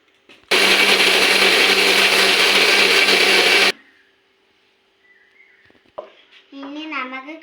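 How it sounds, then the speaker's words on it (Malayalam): A mixer grinder blends mango pieces with sugar into juice, a loud steady whir running for about three seconds, then cutting out; a voice speaks briefly afterward. "ഇനി നമുക്ക് മിക്സിയിലോട്ട് ഇട്ട് കൊടുക്കാം"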